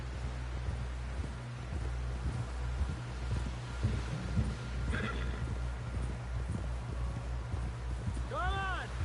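A horse in the game Red Dead Redemption 2 whinnies briefly near the end, preceded by scattered hoof clops, all under a low constant rumble and some talking.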